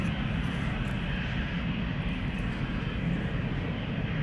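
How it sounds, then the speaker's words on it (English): A British Airways City Flyer Embraer 190 takes off from Amsterdam Schiphol, its jet engines giving a loud, steady, close-up roar that holds constant throughout with no voices. "BA City Flyer flight 8496 to London City. This is an Embraer 190"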